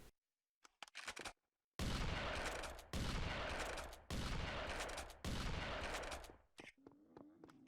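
Four heavy shotgun blasts from the video game Serious Sam 3 boom one after another at a steady pace. Each loud blast rings out and decays, and a few quieter clicks and thumps come before and after.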